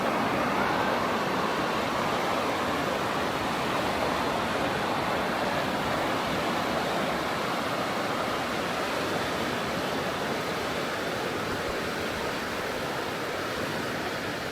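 Water rushes in a steady, broadband roar, like a strong stream or cascade, constant and unbroken throughout.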